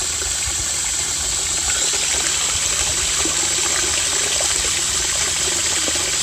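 Steady rushing water pours continuously into a solar water heater tank, a constant gushing hiss with a low hum beneath, no voices.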